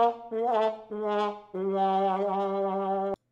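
Sad trombone effect played from a Rode NT-USB Mini pad, a brassy descending wah-wah phrase of three short notes and a longer wavering final tone that cuts off abruptly, heard alone.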